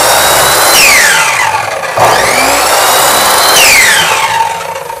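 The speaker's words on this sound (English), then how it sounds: "So I'm gonna actually cut the trestle more over here." A power saw cuts into a scratch-built wooden model trestle at a shallow depth, its loud whine rising and falling in several sweeping passes with steady motor noise throughout.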